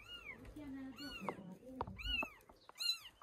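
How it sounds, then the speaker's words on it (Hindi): Kittens meow repeatedly in a grain storage bin in a hill-village house, their high, wavering cries coming close and clear in short bursts, with people talking nearby and occasional soft knocks. "वहां पे ना बिल्ली के बच्चों की आवाज आ रही है"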